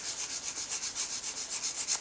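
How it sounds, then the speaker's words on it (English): Soft resin figure pieces being sanded by hand, a steady rhythmic rasping of back-and-forth strokes, close and fairly quiet, with no talking. "I'm just going to sand them away because it's nice and soft."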